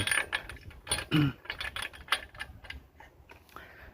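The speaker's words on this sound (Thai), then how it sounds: "ประแจรวม หรือว่าประแจแหวนข้างแบบนี้นะครับ เอาใส่ได้ หมุนได้เลย" Combination wrench turning a spark plug into an engine, a series of small metallic clicks and ratcheting taps close up, irregular and fairly quiet, with no talking.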